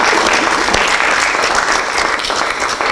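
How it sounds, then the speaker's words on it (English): Audience applause at a poetry anthology book launch, a dense steady wash of many hands clapping together throughout, loud and close with no voices breaking through. "I'm going to clap her in the universe"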